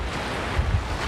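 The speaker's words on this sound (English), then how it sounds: "it's very windy here today" Strong wind in Australia buffets the microphone in a steady low rumble with a couple of louder gusts, no voices heard.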